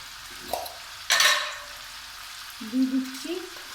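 Broad beans and slit green chillies frying in a pan for a mola fish oil-chilli curry: a sudden hiss as they drop into the hot oil, then a quieter sizzle with a few utensil clinks, heard close up.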